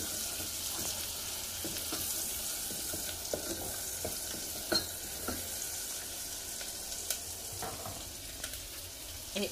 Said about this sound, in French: Je vais juste mélanger. Vraiment bien mélanger.